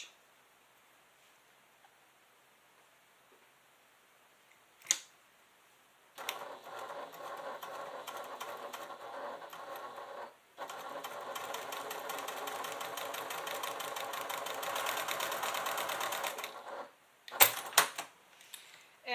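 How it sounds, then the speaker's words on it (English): A sewing machine stitches a fabric clutch, two sustained runs of rapid rattling stitches separated by a brief pause, with quiet handling clicks before and after, close and clear. "So I'm just going to stick this on the machine and go ahead and stitch."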